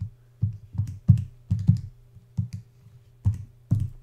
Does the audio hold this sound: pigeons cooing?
no